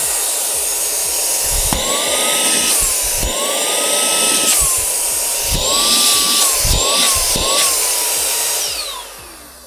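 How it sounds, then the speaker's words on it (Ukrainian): A small handheld Borofone FC4 brushless car vacuum whines loudly and continuously, its motor pitch rising and dipping as the nozzle moves, with scraping and bumping noises mixed in. "доволі вражений потужністю даного пилососу"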